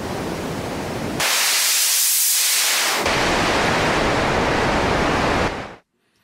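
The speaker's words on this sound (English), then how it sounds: "you hear noise, which you can adjust the color here as well" Broadband noise from the Kai Aras Artifacts lofi processor plugin, a steady hiss whose color shifts twice as it is adjusted, brightening to a sharper sizzle before settling back, then cutting off abruptly at the end.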